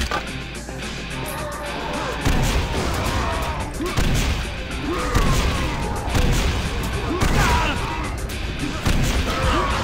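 Gunfire and rocket launcher explosions from the shooter game Painkiller Black pound continuously, dense rapid shots and heavy blasts layered over game music, loud and unbroken throughout.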